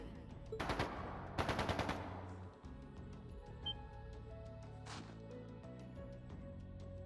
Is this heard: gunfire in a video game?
yes